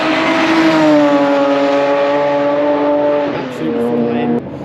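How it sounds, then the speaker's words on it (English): A Ford Mustang historic race car on a test day at Goodwood, slides sideways out of the last corner with a loud, sustained engine note that rises and then falls as the car passes close by. "Here comes Rob with the Mustang, absolutely sideways out of the last corner."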